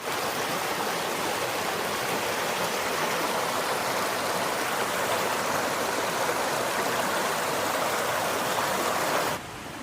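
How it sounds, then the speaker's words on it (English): A small stream on the Appalachian Trail flows with a steady, close rushing wash of water that continues unbroken throughout, with no voices. "There's supposedly a little stream down here in a mile or so that they say is good for soaking your feet in."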